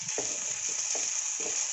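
Baby corn and chicken samosa filling frying in a pan, a steady soft sizzle running throughout with faint stirring knocks at intervals.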